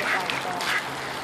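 Ducks at a park quacking briefly while being fed bread, a couple of short calls close by with people's voices and park background around them.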